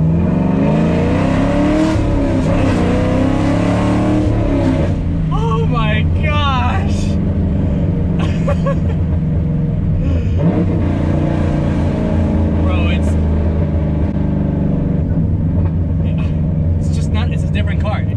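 A 5th Gen Camaro SS with Badlanz exhaust cutouts rumbles and revs loudly and continuously up close, with engine sweeps rising midway while people exclaim over it.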